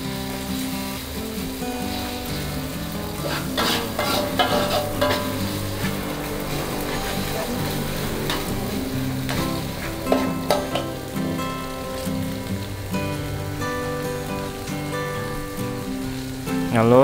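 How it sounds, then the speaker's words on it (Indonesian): Pounded spice paste sizzles and crackles steadily in hot oil, loud and close, with scraping stirring strokes, lemongrass and bay leaves coming in for a river snail dish in oyster sauce. "Setelah minyaknya udah panas, kita masukin bumbu yang tadi udah kita tumbuk itu."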